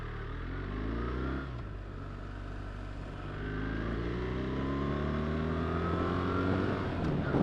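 A 2024 BMW R 1300 GS motorcycle being ridden, its engine note rising and shifting through revs and gears with steady wind noise, loud and continuous from the rider's position, with no talking.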